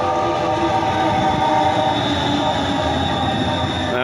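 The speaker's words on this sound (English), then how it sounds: "another train" A passing train gives a loud, close, continuous rumble with rattling rail noise and a sustained tonal whine that lasts the whole stretch.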